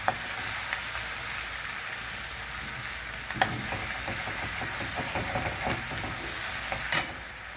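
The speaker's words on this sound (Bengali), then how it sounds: "রসুনটা একটু ভাজা হবে" Garlic frying in a pan, a steady close sizzle lasting throughout, with soft scraping stirs and a few sharper utensil clicks near the middle and end.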